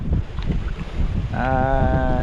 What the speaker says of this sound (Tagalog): Ayun na ang hangin. May bagyo na pala.